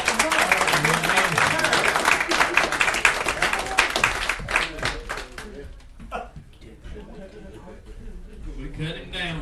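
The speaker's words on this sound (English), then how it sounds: "Give the Lord a hand clap for that." A church congregation claps hands together during a worship service, a dense burst of clapping that thins out over the second half, with voices talking and calling out beneath it.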